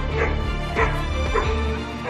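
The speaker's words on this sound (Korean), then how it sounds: "그 순간 뭔가에 반응하는 녀석 맹렬하게 짖기 시작합니다." A dog out on a walk barks fiercely and repeatedly, loud and close, the sharp barks mixed with whimpering yips over dense background noise.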